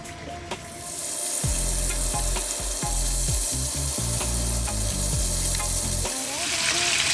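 Chunky king fish coated in spices fries in a pan over medium heat, giving a continuous close sizzle with occasional stirring and turning sounds, over soft low background tones.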